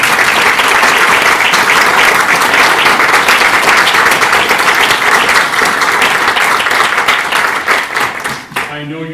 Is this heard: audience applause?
yes